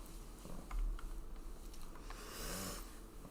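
A cat purrs softly and steadily nearby, a quiet low rumbling drone that swells slightly with each breath and carries on alone without any talk.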